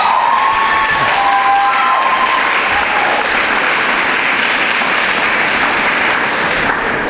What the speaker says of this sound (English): Let's applaud her, yes.